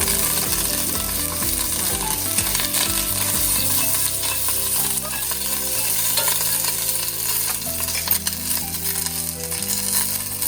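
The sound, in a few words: mustard seeds, cumin and green chillies frying in oil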